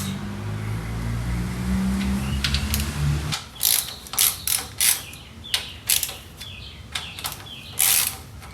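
Ratchet wrench loosening rocker nuts on a VW Beetle engine during a tune-up: a hum fades, then a series of sharp, close clicking ratchet bursts in irregular short strokes.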